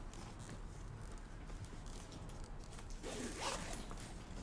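A zipper pulled around the pocket of a carry case, a soft, quiet rasp under low background noise that grows brighter and louder toward the end.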